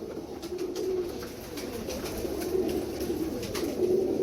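A pair of Kamagar pigeons coo nearby in a soft, repeating low coo, pulsing every second or so over faint background noise.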